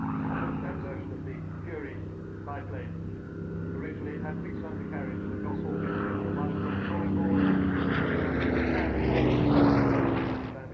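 A Hawker Hurricane Mark II-C propeller fighter drones past at an airshow, its engine note rising and swelling toward the end while a commentator talks over it.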